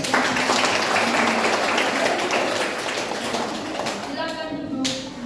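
Students clapping in a classroom, a brisk burst of hand claps that fades toward the end as a voice speaks.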